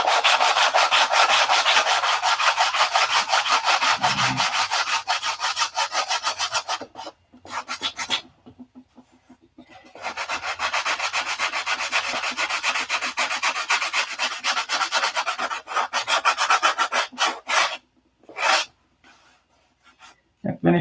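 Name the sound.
sanding wood with a 180-grit sand block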